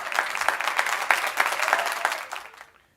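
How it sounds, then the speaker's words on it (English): Applause from a conference audience honoring a committee at the close of an educational event: dense steady clapping that holds for a couple of seconds, then tapers off and fades to quiet. "let's give one last round of applause here for this team,"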